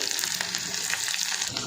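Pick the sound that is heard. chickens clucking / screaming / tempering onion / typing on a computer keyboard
tempering onion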